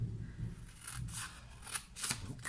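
Scissors snip through patterned designer paper for a small gift basket, a run of crisp cutting strokes close by with short pauses between them, no talking.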